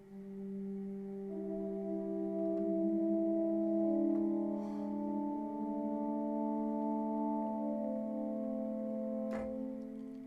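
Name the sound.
synthesized horn patch played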